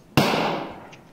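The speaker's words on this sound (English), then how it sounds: "I'm throwing a nade at it." A single sharp grenade blast in Escape from Tarkov, loud and close, bursting suddenly and then decaying into a long rumbling tail.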